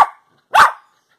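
A dog being rubbed gives two sharp, close barks, the first right at the start and a louder, fuller one about half a second later, with silence around them and no talking.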